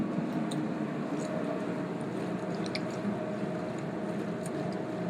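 Bread soaked in chicken stock and half and half being mashed by hand, giving soft, wet squishing and squelching sounds that run steadily over a low background hum.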